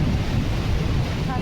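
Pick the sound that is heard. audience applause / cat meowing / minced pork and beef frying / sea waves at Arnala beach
sea waves at Arnala beach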